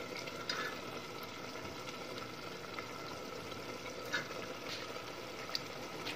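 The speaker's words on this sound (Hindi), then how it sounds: "अभी टमाटर और मसाले थोड़े पक चुके हैं, अब इसमें हम दाल डालेंगे जो हमने दो घंटा पहले भिगा के रखी थी।" Soaked chana dal goes into a pan of cooking tomatoes and spices, giving a soft steady sizzle with faint stirring scrapes and small clicks, quiet and close.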